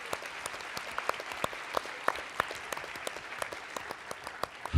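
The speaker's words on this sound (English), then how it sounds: "Let's give them a round of applause." Colloquium audience applause, a steady patter of many hands clapping with distinct sharp claps standing out, moderately distant and continuous.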